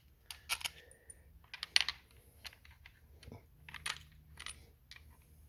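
Small metal screws being turned and seated by hand into a Stihl MS 271 chainsaw cylinder during a cylinder and crank installation, giving scattered light clicks and taps, close and quiet, with no talking.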